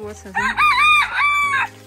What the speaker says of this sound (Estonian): kõigepealt laseme kanad välja